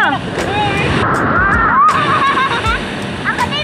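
Strong ocean waves surge and wash on a beach in southern Leyte, a broad rolling roar under wind buffeting the microphone, with people talking and calling out nearby.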